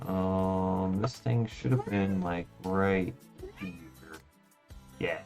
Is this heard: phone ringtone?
no